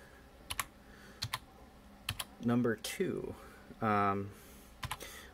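Keys clack on a UK-layout computer keyboard connected to a serial ANSI terminal, with scattered sharp taps in short bursts while someone speaks briefly between them.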